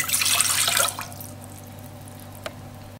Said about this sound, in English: I'm just gonna put a half a cup of water in there.